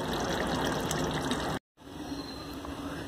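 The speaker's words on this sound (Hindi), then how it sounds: "ये देखिए मैंने पानी डाल दिया है आधा लीटर के लगभग मैंने गर्म पानी डाला है" Roughly half a litre of hot water poured into a mutton handi curry after the masala has fried and the oil has risen, a steady rushing gush that stops abruptly, then a quieter simmering wash of liquid.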